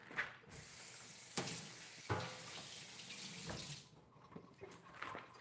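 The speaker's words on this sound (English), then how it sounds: "Let me rinse this off." Tap water running steadily while something is rinsed under it, a continuous close hiss that breaks off near the end into scattered splashes and drips.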